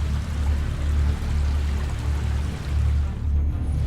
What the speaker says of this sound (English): this river without a bridge that occurred suddenly right in front of me